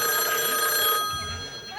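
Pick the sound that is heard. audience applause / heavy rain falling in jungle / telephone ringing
telephone ringing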